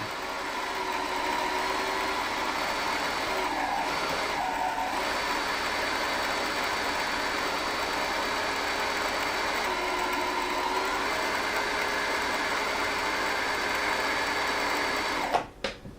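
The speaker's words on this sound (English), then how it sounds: "now we can proceed to finish winding our bobbin" A Brother Innov-is NS2750D sewing and embroidery machine winds a bobbin with a steady, even motor whir that runs unbroken for many seconds, then stops abruptly with a couple of small clicks at the end.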